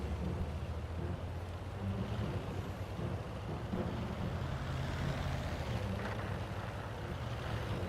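A tank engine runs in the World of Tanks video game, a steady low rumbling drone with broadband noise that holds at an even, moderate level for about eight seconds, with no voices.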